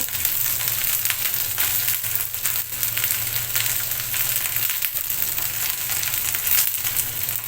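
Okra frying in a pan, a loud, dense and continuous sizzle with scraping from stirring running throughout, close up and with no voices.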